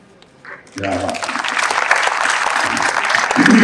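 A large audience at a Hindi comic kavi sammelan poetry recital bursts into applause after a brief voice, a dense, sustained wash of clapping that swells and holds loudly to the end.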